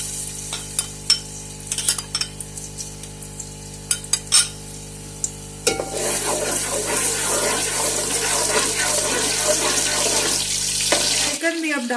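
Ginger and garlic dropped into hot oil for biryani, sudden loud sizzling and crackling frying that runs steadily after a few quieter clinks and taps.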